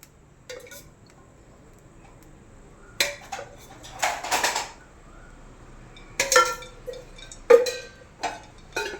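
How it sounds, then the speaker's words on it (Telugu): Metal cookware clanks and clinks in short bursts, a pot set down and handled on a stove, close by with quiet gaps between. "ఇప్పుడు స్టవ్ వెలిగించి గిన్నె పెట్టి దీని మీద ఒక 3 స్పూన్స్ ఆయిల్ వేసుకోండి"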